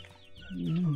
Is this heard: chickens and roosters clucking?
yes